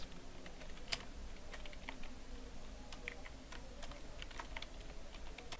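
Keys clatter in an irregular run of quick, close taps on a computer keyboard while a biodata is typed in MS Word, with one sharper keystroke near the start and no voices.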